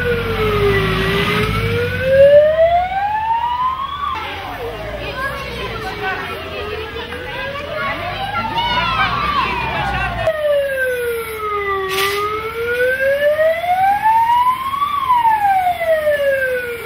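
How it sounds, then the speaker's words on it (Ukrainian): Fire engine sirens wail in a rising and falling cycle, loud and close, arriving during an evacuation drill at a school, with voices and children's noise in the background. "Через декілька хвилин приїхали пожежні і загасили вогонь."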